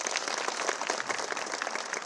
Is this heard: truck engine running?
no